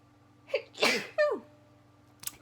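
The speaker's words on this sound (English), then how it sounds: "I have to sneeze." A single person's sneeze bursts out close up, a sharp intake followed by an explosive release, with a shorter trailing sound and a faint click afterward against a quiet room hum.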